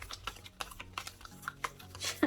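A deck of oracle cards being shuffled, with soft papery riffling and tapping in quick bursts, close but quiet, with no talk over it.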